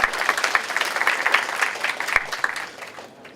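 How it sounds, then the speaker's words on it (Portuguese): Audience applause for a speaker at a talk by a former student, a steady patter of many hands clapping with scattered sharp claps, fading out toward the end. "uma salva de palmas aí por Marchetti."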